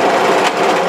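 An overlocker hums steadily and loudly up close, serging the underarm seam of a sweatshirt in one continuous run.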